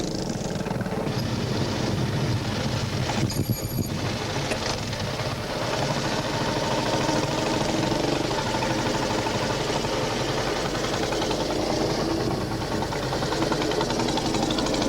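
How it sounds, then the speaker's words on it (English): A vintage BSA B31 motorcycle engine runs steadily throughout, a continuous throbbing drone on an outdoor country lane ride, with wind buffeting and no talk. "The old B31 sounding good, isn't it?"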